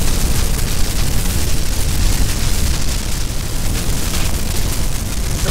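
Blaze attacks in Minecraft with a loud sound pack form a continuous, harsh roaring blast of fiery bursts that stays loud and dense throughout, with no pauses.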